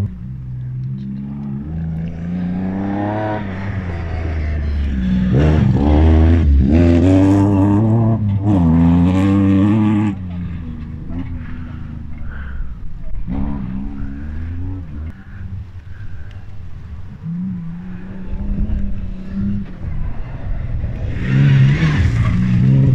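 Peugeot 205 rally cars tear past on a gravel stage of the Rallye Terre de Vaucluse, engines revving hard and swelling loud up close, then fading before another car's engine climbs again.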